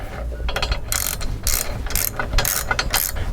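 An 18mm spanner ratchets as it tightens a bolt on a hand-powered fencing wire winder, loud close rhythmic clicking in quick bursts with short pauses between strokes, no talk.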